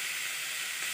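Finely chopped garlic and ginger frying in a pan, giving a steady, bright sizzling hiss, close and even throughout a brief moment.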